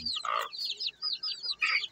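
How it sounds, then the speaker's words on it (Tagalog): A native hen clucks in a quick series of short, bright calls, close and fairly loud, with brief pauses between bursts and no talking. "Ito naman yung hen, native."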